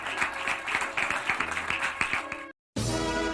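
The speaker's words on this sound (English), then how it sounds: "A virtual applause." Applause at a virtual school moving-up and completion ceremony, steady clapping of many hands that cuts off abruptly to silence, then returns with a different-sounding noisy backdrop.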